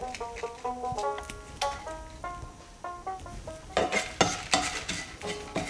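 Six dried red chillies dry roasting in a pan, stirred with a utensil that gives ringing metallic scrapes, then a run of sharper clanks and taps near the end.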